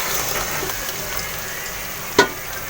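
A paste of onion, nuts, sour yogurt, green chili, poppy seed, nutmeg and mace frying with beef gives a steady close sizzle and stirring, with one sharp clack of a utensil near the end.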